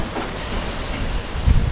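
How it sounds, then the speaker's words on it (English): Wind blowing outdoors outside a workshop, a steady rushing buffet across the microphone with low rumbling gusts, fairly close and continuous, no talking. "A little windy today."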